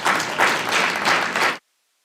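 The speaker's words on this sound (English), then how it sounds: "They are awesome, and they deserve a round of applause." An audience at a board meeting gives a round of applause for a group of student chess players. The dense clapping swells and eases in loose waves for about a second and a half, then cuts off abruptly into silence.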